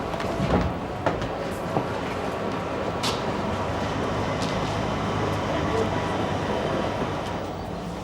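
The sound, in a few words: train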